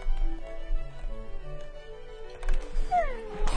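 Minecraft cats meow repeatedly over a low background hum, short, whiny calls scattered across the moment with a brighter cry near the end, fairly close and without speech.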